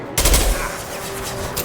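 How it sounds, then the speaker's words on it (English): An impact shot in Mass Effect 2 goes off as one loud, heavy blast with a deep thump, followed by a lingering rumbling tail. "Firing an impact shot!"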